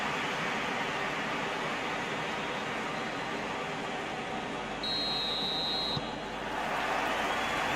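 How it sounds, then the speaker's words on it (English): Referee's whistle in the eFootball PES 2021 football simulation, Argentina vs Cape Verde: one brief, high tonal blast about a second long, set against a constant loud stadium crowd roar. "There's the whistle."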